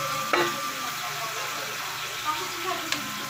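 Meat marinated in garlic, crushed peppercorns, bay leaf, soy sauce and vinegar is stirred in a sizzling pan, with steady frying hiss and a few sharp scrapes and knocks of a ladle close by.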